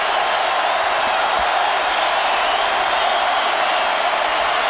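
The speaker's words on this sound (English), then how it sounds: "Crowd making some noise now after the 28-yard touchdown pass" A college football stadium crowd at Auburn versus Mississippi in 2009 roars after a 28-yard touchdown pass, a dense, steady wash of cheering that stays loud and unbroken throughout.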